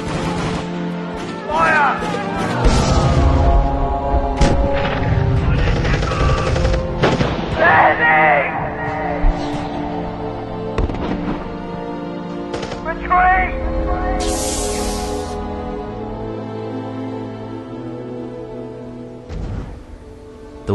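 Booming cannon blasts and sharp cracks from Half-Life 2 pound repeatedly over layered music and effects, with a voice speaking intermittently.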